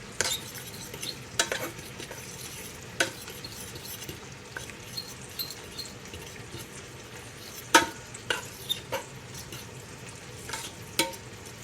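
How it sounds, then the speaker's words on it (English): Baked beans sizzle in a hot frying pan while a melting ingredient is stirred in, with soft continuous frying and scattered sharp scrapes and clinks of a utensil against the pan. "Stir that in, it shouldn't take long to melt down."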